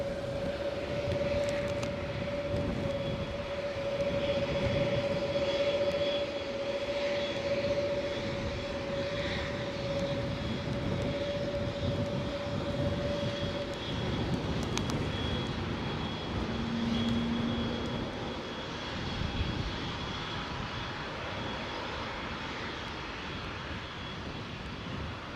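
An aircraft arriving at Edinburgh airport, a sustained engine roar with a steady whine, fairly distant and heard over wind noise, no talking.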